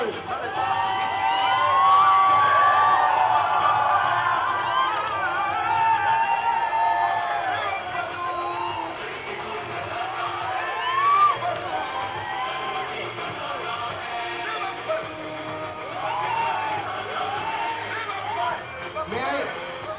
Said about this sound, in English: Please give a big round of applause to Ritesh Deshmukh and Nargis Fakre